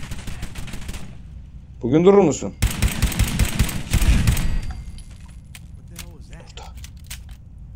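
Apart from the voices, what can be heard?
gunfire in video game Fallout 4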